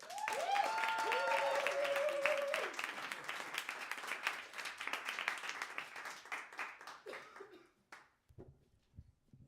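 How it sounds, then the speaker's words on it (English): An audience claps for Bilal at a live storytelling show, a full, sustained round of applause under a brief musical sting that gradually thins out, then fades into a few isolated claps and stillness. "Please clap it up for Bilal"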